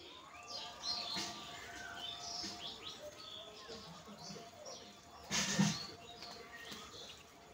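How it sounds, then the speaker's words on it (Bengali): Yellow-footed green pigeons feed on figs in a banyan tree, giving faint, distant chirps and whistles scattered through a quiet outdoor background, with one brief louder burst near the end. "এ দেখো আমাদের গাছে হরিয়াল পাখি এসেছে"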